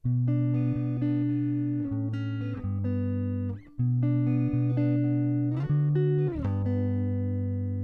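Sustained guitar chords ring out one after another in a steady progression, clear and close, with a brief dip as the chords change.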